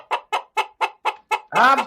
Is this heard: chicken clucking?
yes